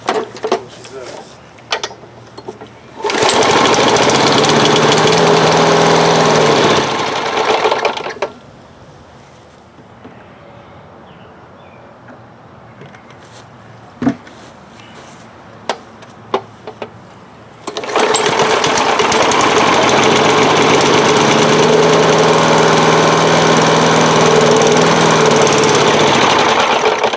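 An old lawn mower engine starts and runs at a loud steady roar for several seconds, cuts out to quiet with a few clicks and knocks, then fires up again and runs loudly to the end.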